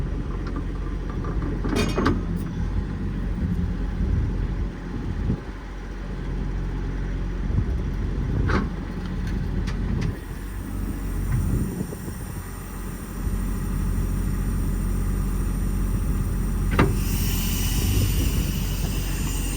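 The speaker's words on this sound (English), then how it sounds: "Go ahead and extend these out. Crane side is hydraulic extension." Hydraulic outriggers extend on a 2018 Kenworth T370 crane truck with a PX9 engine, Stellar 12630 crane and EnPak unit, giving a steady, loud mechanical drone with a few sharp clunks along the way.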